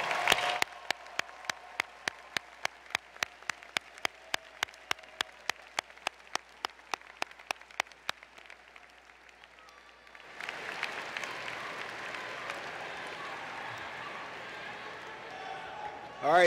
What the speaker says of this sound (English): Give them a round of applause, your family members.